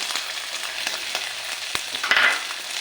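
Fresh field beans (pavte) tumble into a hot pan for a brinjal curry and fry with a bright, even sizzle, punctuated by a few light stirring clicks and a brief louder spit near the end.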